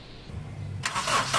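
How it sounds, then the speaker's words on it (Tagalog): A first-generation Honda CR-V engine, under repair for overheating, cranks and catches partway through, a quiet murmur breaking into a loud, rushing roar that holds to the end. "At dahil sa okay na, pa-start ko muna itong makina"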